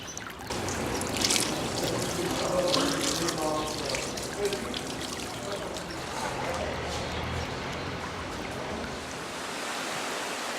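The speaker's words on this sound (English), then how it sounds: "Piping hot waterfalls that have flowed through the cliffs of Jermuk since time immemorial." Hot spring water pours from pipes and down cliffs at Jermuk, Armenia, a dense, continuous rushing splash heard close and fairly loud, fading slightly toward the end.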